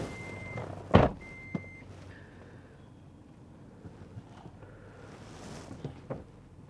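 A truck reversing to lift a hanging deer on a meat pole sends out a steady high reversing beep through wind noise, broken by a sharp knock, then a few quieter clunks.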